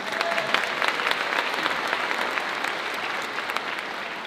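Steady audience applause fills a school district's opening-day gathering, a dense, even wash of many hands clapping throughout, with faint crowd murmur beneath.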